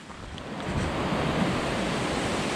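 Broadband roar of a waterfall on Mount Olympus in Greece, heard early morning during a climb; a steady, loud rush of falling water fills the whole stretch with no voices.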